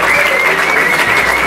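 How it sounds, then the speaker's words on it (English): A brief burst of steady, loud applause from an awards banquet crowd, dense overlapping clapping with no pauses. "We have to have more applause than that."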